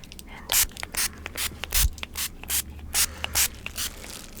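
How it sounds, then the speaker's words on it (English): Short, close hissing bursts of NYX matte finishing setting spray misted over a made-up face, about a dozen quick pumps in an uneven rhythm, crisp and intimate. "I'm gonna take my NYX matte finishing spray"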